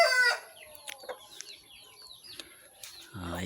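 Bisaya chickens and gamecocks kept for cockfighting cluck and crow close by, with a loud crow opening the moment, scattered clucks through the middle and another strong crow at the end.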